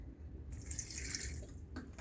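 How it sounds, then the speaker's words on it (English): Water poured or running into a container of roasted hot sauce ingredients with vinegar, a steady close splashing trickle that swells in the middle and fades after a couple of seconds. "And add some water."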